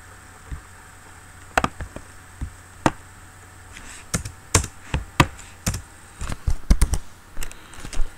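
Irregular clicks from a computer keyboard being typed on, keys struck singly and in quick bursts, close and crisp over a faint steady hum.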